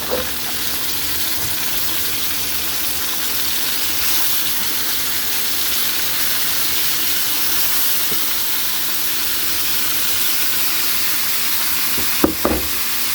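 Octopus added to a hot pan with tomato, onion and garlic for adobo sizzles and fries in a steady, loud hiss that runs unbroken, with a couple of brief clinks near the end.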